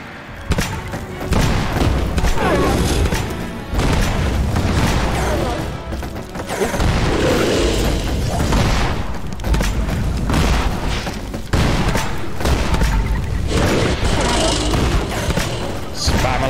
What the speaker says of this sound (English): Spam a load of grenades at him, I guess.